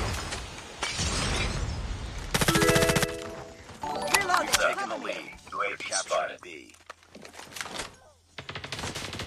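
Rapid M13 assault rifle fire in a shooter video game, bursts of gunshots with shattering impacts and chaotic game effects, mixed under someone talking throughout.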